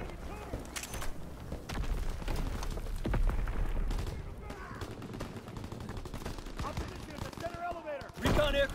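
A World War II fighter plane strafes targets in a combat video game, with bursts of rapid gunfire and booms rolling over a busy battlefield din, ending in a sharp, loud blast.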